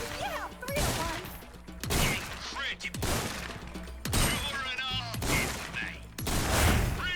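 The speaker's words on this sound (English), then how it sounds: "I'm telling you, I adore this shotgun." A riot gun semi-automatic shotgun fires in the Resident Evil 4 Remake video game: about six loud, sharp blasts spaced roughly a second apart, with a voice talking quietly between the shots.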